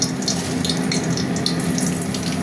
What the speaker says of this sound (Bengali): আর দেবো 5 ফোড়ন।